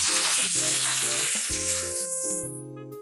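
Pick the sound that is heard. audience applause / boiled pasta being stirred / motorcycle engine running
boiled pasta being stirred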